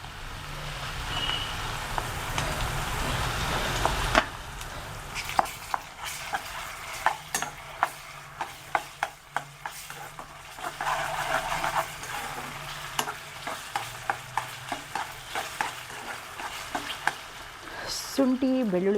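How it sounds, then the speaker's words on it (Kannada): Ginger garlic paste frying in a pan, with a steady sizzle and repeated sharp clinks and scrapes of a spoon stirring, close and fairly quiet, with a faint beeping in the background. "ಶುಂಠಿ ಬೆಳ್ಳುಳ್ಳಿ ಪೇಸ್ಟ್ ಹಾಕಿದ್ಮೇಲೆ ಒಂದು 5 ನಿಮಿಷ ಚೆನ್ನಾಗಿ ಫ್ರೈ ಆಗಬೇಕು"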